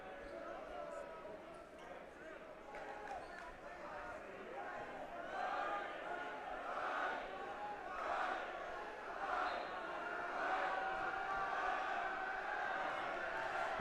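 Crowd noise at a boys high school basketball game, a home crowd yelling to force a missed free throw; a sustained roar and shouting throughout, swelling in the later seconds, with voices mixed in.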